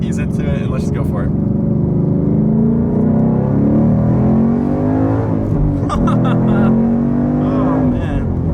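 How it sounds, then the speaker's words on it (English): A supercharged Ford Mustang GT pulling hard through second gear, heard from inside, its engine note climbing steadily and loudly, dropping at a shift, then rising again, with a voice talking over it. "So let's go ahead and try a second gear pull with the car."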